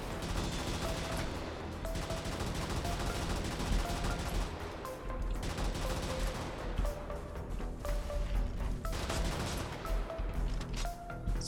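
Turret-mounted guns firing nonstop in the mech combat game Brigador, a dense, rapid stream of shots and impacts that fills the whole stretch over a backing soundtrack.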